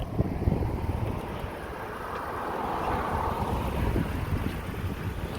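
Wind buffets the microphone during a walk along Main Street in Camp Verde, Arizona, a continuous rough rumble with gusty swells and no talking.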